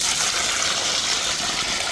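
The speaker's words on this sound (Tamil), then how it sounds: "தண்ணியை ஊற்றி அலசிக்கிறோண்ணே வெட்டின மீனை" Water poured over cut pieces of a large dam-caught fish to rinse them, a steady close rushing gush running without a break for the whole moment, with no voices over it.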